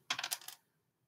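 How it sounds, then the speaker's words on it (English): A small four-sided die clatters across a hard surface, a quick burst of four or five sharp clicks and taps that dies away within half a second, close and alone. "Roll that dice."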